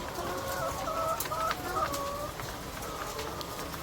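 Isa Brown laying hens cluck steadily in a close, busy chorus, with short rising calls repeating over a continuous flock murmur.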